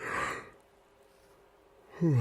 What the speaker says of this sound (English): hold on, I got a fucking yawn.